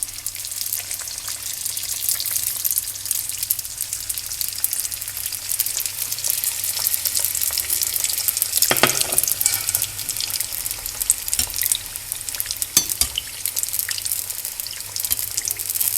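Turkey spring rolls frying in hot oil, a steady dense sizzle and crackle with bubbling pops throughout, close and fairly loud, occasional sharper spits breaking through, no talking.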